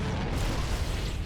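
A grenade explosion in the Halo video game produces a dense, sustained burst of blast noise that fills the short moment loudly, with no voices over it.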